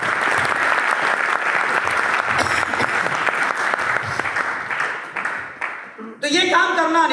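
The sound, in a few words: audience applause at a meeting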